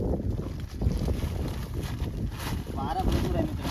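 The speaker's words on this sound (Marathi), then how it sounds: "वारा भरपूर आहे मित्रांनो" Strong wind buffets the microphone at a tidal creek during a crab-catching outing, a steady loud roar of gusts and rumble throughout, with people talking faintly underneath.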